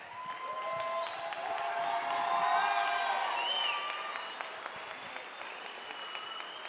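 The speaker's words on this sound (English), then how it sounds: "so give them a round of applause." Sustained applause from an audience at a junior high school band concert, mixed with a few whoops and cheers, swelling in the middle and easing slightly toward the end.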